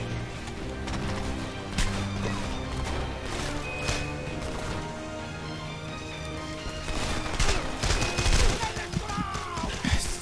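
Gunfire in the Homefront first-person shooter: rapid automatic bursts and scattered single shots in a combat scene, intensifying toward the end over a steady background mix.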